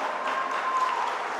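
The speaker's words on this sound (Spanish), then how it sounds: "volvió a crear disgusto en el Capitolio y nuevos abucheos" Crowd reaction in the Colombian Congress at the Capitolio, a continuous wash of many voices and noise with no single voice standing out, steady and moderately loud throughout.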